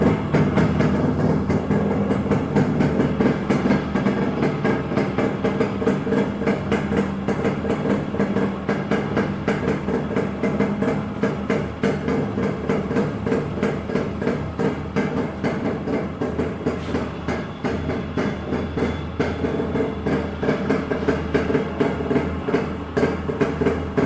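An RX / Roadking motorcycle engine idles close by with a steady, throbbing two-stroke-style putter and a constant low rumble, running alone without any talk.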